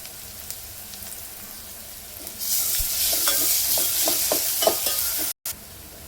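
Ground ginger-garlic paste hits hot oil in a tempering for a Vidarbha-style dal, breaking into a loud steady sizzle with occasional stirring scrapes, close and without talk.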